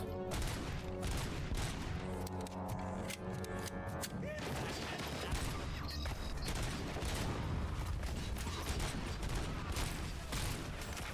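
Pistol gunfire in the video game RoboCop: Rogue City comes as loud, dense volleys of overlapping shots that run almost without a break, mixed with mechanical clatter and booms.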